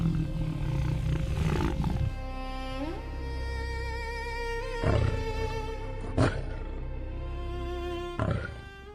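A lion's deep, rumbling roars and grunts repeat at intervals over a low, continuous growl, loud and close.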